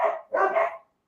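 Several dogs barking together downstairs in a house, two loud overlapping bursts of barks close together, no talking over them.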